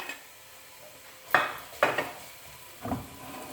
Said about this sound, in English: I've heated my ghee up now in a pan. And I'm going to add to it, first of all, the onions. And let them fry down a bit.